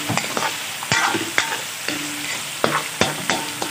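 Chicken and shrimp stir-fried for chop suey hiss loudly in a hot pan, broken by repeated sharp scrapes and clanks of the spatula in an irregular rhythm, close up with no talking.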